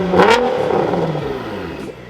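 A Nissan GTR fitted with an AAM active exhaust is revved once. A close, loud rise in engine pitch is followed by a steady, throaty idle-like drone that fades near the end.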